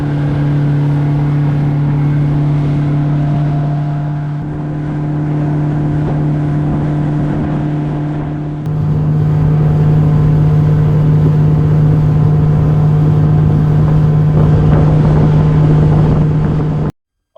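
A Yamaha FT50 outboard motor on a boat at sea, a loud steady engine drone that jumps higher and louder midway as the throttle opens, with wind buffeting the microphone and no talk.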